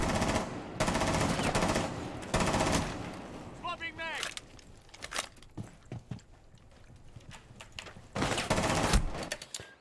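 Gunfire in Rainbow Six Siege: loud bursts of rapid automatic shots that come and go, with quieter clicks and footsteps in the gaps.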